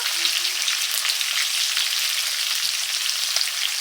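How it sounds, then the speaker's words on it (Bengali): Potatoes sautéing in a pan of oil left from frying eggplant, with salt, turmeric and cumin powder, producing a bright, even, continuous sizzle close up, with faint stirring touches. "আলু কষিয়ে নিয়েছি মশলার সাথে"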